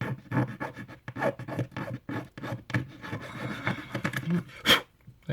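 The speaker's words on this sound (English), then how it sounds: "Right, just cleans off all the burrs, all the edges." A hand file rasps burrs and edges off a part of a vintage 1959 Jouef HO scale model wagon: quick, uneven strokes scraping close by, with small knocks and pauses between bursts.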